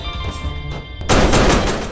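A gun firing when triggered by a wire in the People Playground video game, a sharp loud burst that comes in abruptly after a second of quieter noise and rings out briefly.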